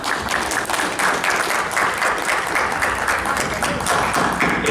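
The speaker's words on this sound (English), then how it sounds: "So please give yourselves a round of applause." A panel audience at a talk about making cartoons applauds itself, dense close clapping that stays loud and even from start to finish.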